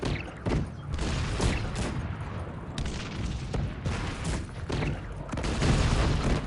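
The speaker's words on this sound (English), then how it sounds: "Freaking howitzers are really doing a number on us." Howitzer artillery in the Cossacks 3 strategy game sends dense, continuous volleys of booming shots and crashes, one blast layered over another throughout with no clear gaps.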